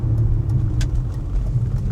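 A modern BMW car engine with a low, steady rumble heard from inside the cabin as the driver works the throttle, close and continuous across the short stretch.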